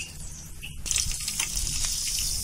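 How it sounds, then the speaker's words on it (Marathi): Mustard seeds hit hot oil in a kadai and the oil breaks into a bright crackling sizzle, steady and close, rising just under a second in. "तेल गरम झालंय. आता मोहरी टाकूया 1 चमचा"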